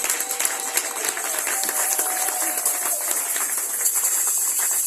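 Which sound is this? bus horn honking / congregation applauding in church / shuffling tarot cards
congregation applauding in church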